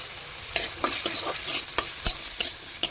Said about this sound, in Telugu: బంగాళదుంపల్ని ఈ విధంగా కట్ చేసుకొని ఇందులో వేసి ఫ్రై చేయాలి